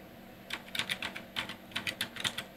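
Computer keyboard typing heard up close, a short run of distinct key taps in an irregular rhythm with brief pauses, with no talking.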